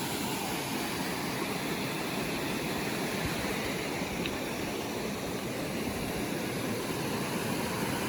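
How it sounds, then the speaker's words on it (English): A small waterfall cascade beside mountain huts in the Banff and Mount Assiniboine backcountry gives a steady, close, broadband rushing roar that holds unchanged throughout, with no voices. "This is the waterfall just at the huts."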